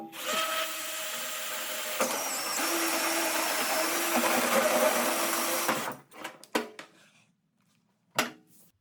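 A drill with a bi-metal hole saw cuts through metal in a loud, steady whine for about six seconds, then stops, followed by a few short clunks and rattles.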